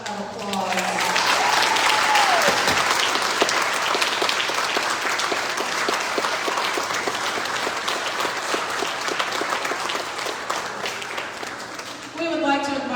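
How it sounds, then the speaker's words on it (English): Sustained audience applause for fair royalty contestants at a county fair queen contest, loud and dense throughout, with a voice heard briefly at the start and the end. "Let's give these girls a round of applause"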